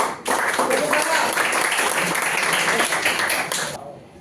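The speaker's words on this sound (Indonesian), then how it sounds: "Tepuk tangan." A classroom group claps hands together, a dense continuous patter of many hands that holds steady for several seconds and then stops abruptly, with voices mixed underneath.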